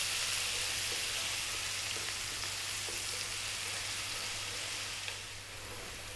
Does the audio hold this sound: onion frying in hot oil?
yes